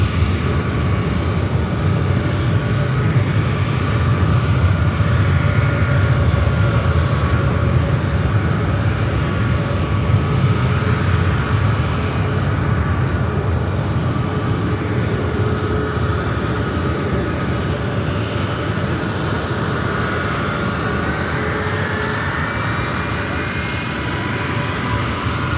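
Steady, loud roar of airplane engines at San Francisco airport fills the whole stretch without a break, with a faint radio voice now and then underneath.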